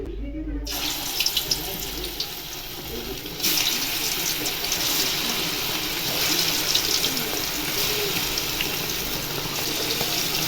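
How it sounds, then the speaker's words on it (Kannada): Chicken kebabs deep-fry in hot, heavily foaming oil, giving a dense, continuous sizzling hiss that swells slightly as pieces go in and holds loud and steady throughout. "ಎಣ್ಣೆ ಸಕ್ಕತ್ತಾಗಿ ಕಾದಿದೆ ನೋಡಿ, ಎಷ್ಟೊಂದು ನೊರೆ ಬರ್ತಿದೆ."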